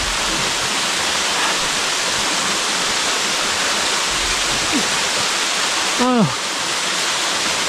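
A thin thread-like waterfall, the 11th falls of Naeyeonsan's Bogyeongsa valley, pours as a steady, loud broadband rush that fills the whole scene, with a brief chirp near the end.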